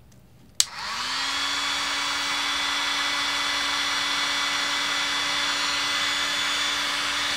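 A Mastercraft heat blower clicks on and then runs as a steady, close whirring blast of hot air aimed at a K-type cup thermocouple, with no talk over it.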